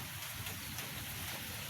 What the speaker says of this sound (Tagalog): Mahina lang yung ulan